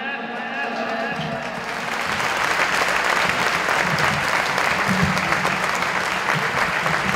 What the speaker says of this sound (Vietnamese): Một tràng pháo tay cho Mai Anh.